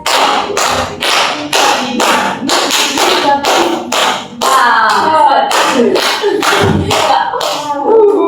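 A group in a counseling session claps hands together in a clap game, sharp unison claps landing in a steady rhythm, close and loud, with voices chanting along in the second half.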